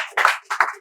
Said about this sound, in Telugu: క్లాప్స్ బేటా